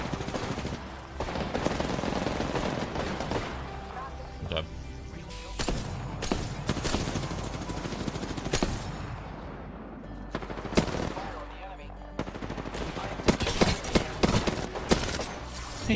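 Rapid automatic gunfire in the Apex Legends video game crackles in dense bursts, with single sharp shots and short breaks between volleys, loud and close, while players talk over it.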